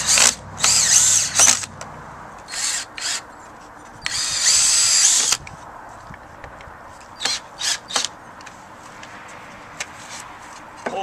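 Power drill driving screws into wood while building a cedar three-bin compost unit, several loud close whirring bursts of varying length separated by quiet pauses and faint handling noise.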